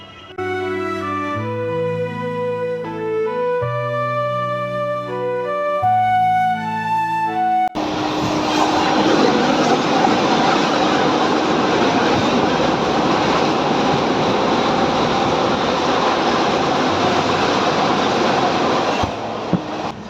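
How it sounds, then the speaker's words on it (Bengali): Close and loud, a train runs at a railway station with a steady broadband roar and rumble that lasts the whole second half, following a melodic musical tone sequence like a station chime or jingle. "আমরা এখন আছি স্টেশনে।"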